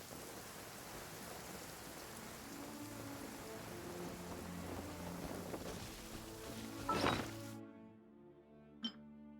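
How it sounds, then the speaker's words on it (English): Steady rain patters through the Genshin Impact game world, a soft, even hiss that runs throughout before cutting off abruptly, followed by a single faint clink. "It's raining again."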